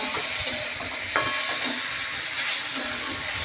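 Black cumin seeds tipped into a pan of frying drumstick flowers set off a steady hiss of hot oil, with soft scraping stirs and small crackling pops close by.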